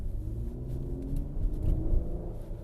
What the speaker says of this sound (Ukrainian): Слухаємо мотор. Не знаю, чи вам чутно через мікрофон. Легеньке, приємне гурчання.